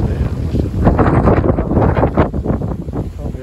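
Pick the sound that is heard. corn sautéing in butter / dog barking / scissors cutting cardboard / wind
wind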